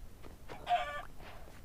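A Minecraft chicken gives a single short cluck in a video game, brief and moderately clear against quiet background noise.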